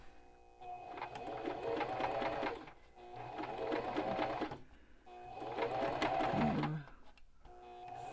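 A sewing machine stitches a fabric face mask in three long steady runs, each a few seconds of close, even mechanical whirring with short pauses between.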